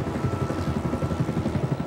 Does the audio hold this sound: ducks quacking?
no